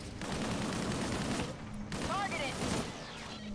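Rapid gunfire from Disintegration gameplay, with dense overlapping shots and a continuous roar of a firefight, plus a few whooshing effects near the end.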